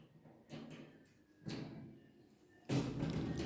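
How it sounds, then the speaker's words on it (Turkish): A door is worked open in stages, with creaking, scraping movements and soft thuds, ending in a louder rush of noise as it swings wide. "bu kapı ne kadar sesli"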